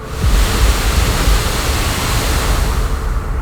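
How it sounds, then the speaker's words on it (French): The Misol-Ha waterfall roars as a dense, steady wash of falling water, loud and close, unbroken for the whole stretch with no voices over it. "le son de la cascade, ça te met direct dans l'ambiance du cliff"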